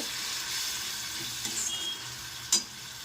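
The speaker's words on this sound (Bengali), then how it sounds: "সামান্য একটু জল দিয়ে এগুলোকে ভালো মতন কষিয়ে নেব কাঁচা গন্ধ চলে যাওয়া পর্যন্ত।" Ground spices being sautéed with a little water in a pan, giving a soft continuous sizzle with light stirring scrapes and one sharp clink near the end.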